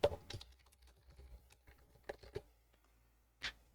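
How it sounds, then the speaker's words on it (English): Computer keyboard typing from an artist's streaming setup, quiet and sparse: scattered soft key taps with a few louder clusters and a final isolated burst, close to a high-gain microphone. "Also, if you guys can hear me typing,"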